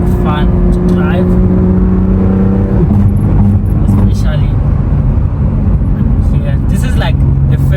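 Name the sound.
BMW M2 Competition car driving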